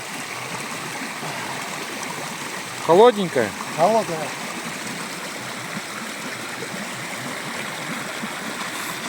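Steady broadband rush of a mountain stream running through a valley between two hills in Yakutia, continuous and fairly close, with a brief spoken exchange partway through.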